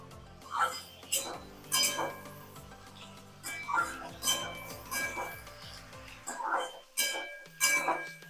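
A spoon scrapes and clinks against a pan while stirring fried ingredients for a Maggi mughlai paratha filling, irregular metallic knocks and scrapes close by.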